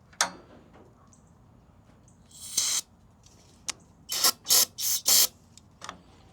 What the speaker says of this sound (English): Just spray it everywhere.